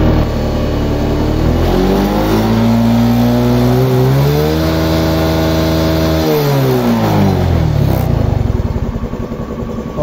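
Suzuki Smash 115 motorcycle engine revs up to a high, steady whine, holds for a few seconds, then drops back to idle, loud and close with no talking.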